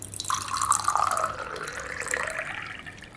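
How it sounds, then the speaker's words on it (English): Water pours from a tap into an empty candle container, a steady rushing stream whose pitch rises gradually as the vessel fills, close and continuous with no talking. "Now fill the container with water,"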